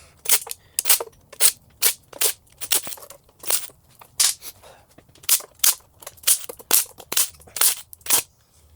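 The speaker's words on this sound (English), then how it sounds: "we can remove all of the bolts on the sides of the pan" 3/8 oil pan bolts being removed from the sides of the pan on a small block Chevrolet engine, heard as a rapid series of about twenty sharp ratcheting clicks in short bursts, close and alone.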